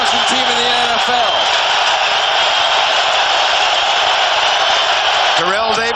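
A loud, steady roar of a stadium crowd fills the Kingdome in Seattle during a 1998 NFL game, Denver Broncos at Seattle Seahawks, with the home fans generating noise as Denver nears the goal line, sustained without break.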